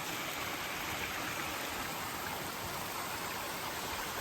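Steady rushing water roars continuously at Mountaineer Falls on the Appalachian Trail, a dense even hiss of falling and flowing water with no breaks.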